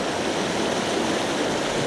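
A forest creek flows close by, a dense, steady rush of water with no pauses across the short stretch.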